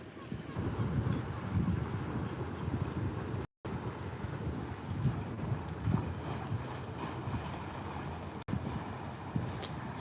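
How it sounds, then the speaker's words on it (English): Wind buffets the microphone beside a river at Potter Heigham under grey skies with boats about, a steady rushing rumble with faint lapping water and two brief dropouts, no clear talking. "Summer wind."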